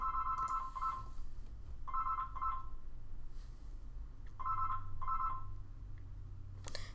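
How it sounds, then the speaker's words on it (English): A telephone rings indoors in repeated paired electronic trills, three ring cycles at moderate volume over a low background hum. "Phone, shut up."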